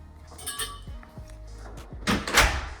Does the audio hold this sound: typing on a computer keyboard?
no